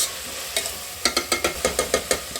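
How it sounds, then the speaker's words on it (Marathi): Onion sautéed in a pan until reddish gives a rapid, regular run of about a dozen spatula scrapes and knocks over a faint sizzle, close and with no talking. "हे बघा कांदा चांगला परतून घ्यायचा लाल होईपर्यंत"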